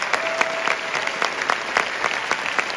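Applause in the Canadian House of Commons during a standing ovation led by Justin Trudeau, a steady roomful of clapping with distinct sharper claps popping out at intervals.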